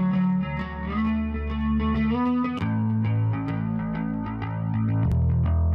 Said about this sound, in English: you can hear the low end thinning out when I put this doubler on